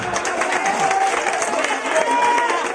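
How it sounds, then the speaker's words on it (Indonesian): A crowd at a Golkar party political rally in Central Lombok applauds and cheers continuously, a loud, busy wash of clapping mixed with raised voices throughout. "Tepuk tangan."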